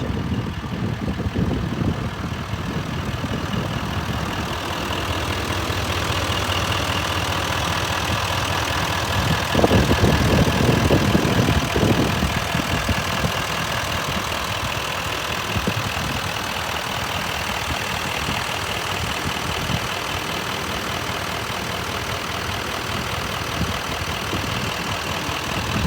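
A 2017 GMC Sierra Denali pickup's 445-horsepower 6.6-liter V8 with automatic transmission idles steadily and close by, a dense low rumble with a slightly louder stretch partway through, and no voices over it.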